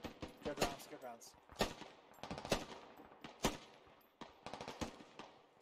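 Gunfire in the military shooter Squad: quick bursts and single shots, mostly distant with a few louder nearby cracks, scattered unevenly under brief voices.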